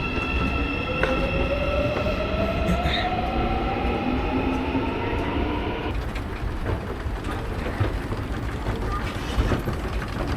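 A subway train moves through a station, with a loud steady rumble, rising wheel and motor whine, and rail squeal filling the whole stretch.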